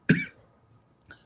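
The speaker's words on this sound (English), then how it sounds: "Get those coughs in." A sharp cough rings out close by, followed a second later by a shorter, softer cough, with quiet in between.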